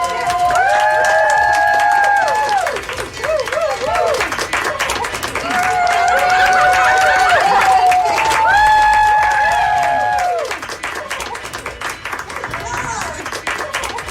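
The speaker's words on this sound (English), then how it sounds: "And then as they leave, they all applaud for him." Nurses clap together in an ICU as a recovering COVID-19 patient is wheeled out, the applause steady and close through most of the stretch and thinning near the end, with voices and cheering mixed in.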